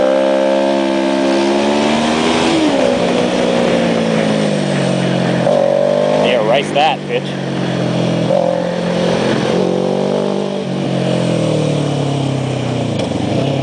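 Modded racer car engine revving close by, a loud harmonic drone rising and falling in repeated pulls, with brief sharp squeals midway; a voice speaks briefly over it.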